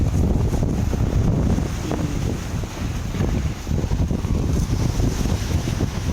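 Strong wind blows across a campsite beneath a big tree, a loud, continuous roar with buffeting against the microphone and the rustle of a flapping tent.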